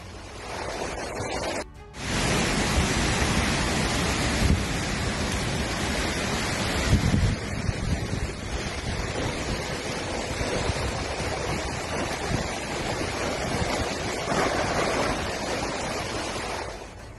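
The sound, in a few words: Hurricane Beryl strong winds and surf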